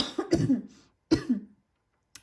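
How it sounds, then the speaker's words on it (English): Two short, hoarse coughs sound nearby, spaced about a second apart, followed by silence and a faint brief noise at the end. "I really am sorry about the coughing"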